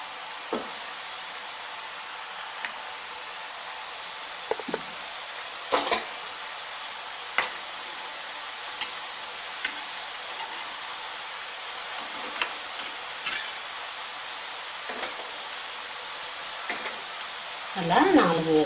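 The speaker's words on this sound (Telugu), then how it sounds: "ఇప్పుడు అది వేగనిద్దాం." Janthikalu, a traditional Telugu snack, frying in hot oil with a steady, soft sizzle and occasional faint stirring clicks and bubbling pops. A voice talks quietly over the cooking.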